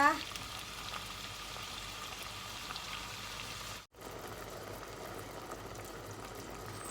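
Fish meat cooking in a pan as the base of a spaghetti sauce, giving a steady, fairly quiet frying hiss with a rain-like crackle that runs alone throughout, broken only by a brief dropout midway.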